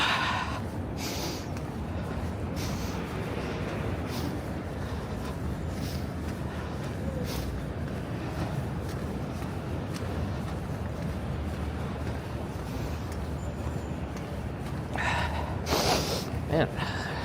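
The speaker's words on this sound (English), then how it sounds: "my sniffles take center stage" Sniffles from a walker in New York City between the Manhattan and Brooklyn Bridges: a few sharp, brief nasal sniffs, loudest in a cluster near the end, over steady outdoor city background noise.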